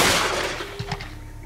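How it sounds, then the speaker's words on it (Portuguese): A 12-gauge shotgun firing a single slug at an old television, a sharp blast at the start that decays into a ringing tail, followed by a couple of faint thuds as the echo fades. "tiro de um único projétil com 12"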